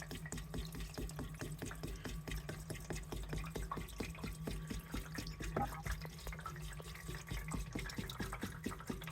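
Water runs through the baffle of a Worcester Bosch Junior boiler, a close, quiet trickle with rapid, regular dripping ticks that continues steadily without any speech.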